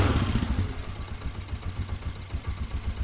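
A 1997 Polaris Sportsman 500 ATV engine idles steadily with a fast, even low-pitched chug and light mechanical clatter, close and alone for the whole stretch.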